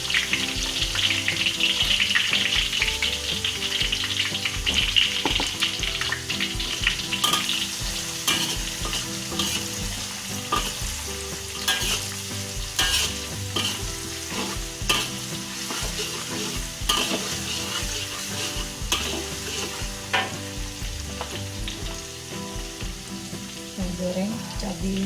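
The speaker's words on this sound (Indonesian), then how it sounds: "Kita goreng bawang merah dan bawang putih, 6 siung bawang merah," Six cloves each of shallots and garlic frying in a pan for a Minang-style fried rice vermicelli, a continuous loud sizzle with clinks and scrapes of stirring throughout.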